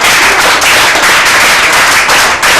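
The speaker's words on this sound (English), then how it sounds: "a round of applause for our debaters" A debate audience in Bacolod applauds the finalists at an inter-school debate final, a loud, dense, continuous wash of clapping that holds steady throughout with no talk over it.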